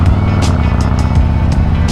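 A car rolls through heavy road traffic, its steady low engine rumble close and constant, with faint short hisses and swishes from passing vehicles.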